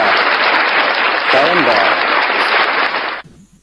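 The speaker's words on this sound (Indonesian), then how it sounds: "tepuk tangan untuk Pak Nacir." Loud, dense audience applause fills most of the stretch, with a brief voice rising briefly under it midway, then cuts off abruptly near the end into near silence.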